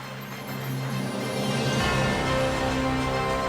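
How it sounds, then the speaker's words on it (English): A large audience claps together in sustained applause at a university convocation ceremony, a dense, steady roar of many hands that swells slightly and holds at a loud level throughout. "A big round of applause."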